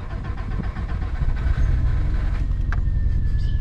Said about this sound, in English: You hold the starter so long.